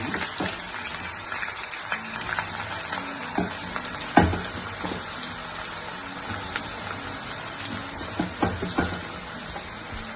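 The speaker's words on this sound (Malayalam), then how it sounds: "ഞാൻ ഇതിനകത്തോട്ട് ഉള്ളി വറുത്തെടുക്കാൻ പോവുകയാണ്." Onions deep-frying in hot oil for mutton biryani: a steady, close, loud sizzle and bubbling hiss throughout, dotted with small pops and crackles.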